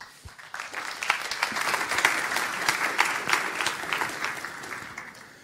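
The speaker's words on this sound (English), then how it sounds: "Please a round of applause for Lubosz." Audience applause for a speaker at a FOSDEM 2020 open-source conference talk on the Linux virtual desktop, a steady round of clapping from a room full of people, sustained for several seconds then beginning to taper.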